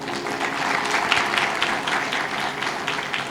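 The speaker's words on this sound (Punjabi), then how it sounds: "ਤਾਲੀ ਮਾਰੀਏ ਜ਼ੋਰ ਦੇ ਨਾਲ।" Audience applause at a religious sermon, a dense, even burst of many hands clapping together for a few seconds, loud and unbroken.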